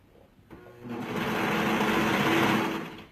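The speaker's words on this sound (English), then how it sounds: "I'm going to sew down this side of the armhole." Sewing machine stitching down the side of a garment armhole, a quiet start and then a steady, fast humming whir that swells and holds for a couple of seconds before easing, up close.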